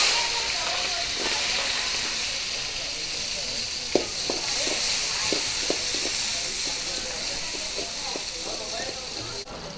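Mustard seeds and chopped small onions frying in hot oil for a fish kaaram curry, giving a steady close sizzle with scattered sharp pops and crackles throughout.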